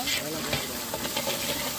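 Steady sizzling and crackling of turkey biryani masala frying in hot oil in a pot, with faint stirring noises, close and continuous.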